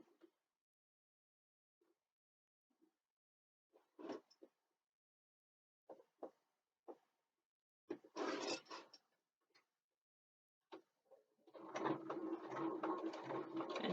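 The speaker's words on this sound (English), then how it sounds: "Just sewing down the other side." A sewing machine stitches down the side of a bookbag in short, separate bursts, then runs in one longer, louder stretch at the end, close by in a quiet room.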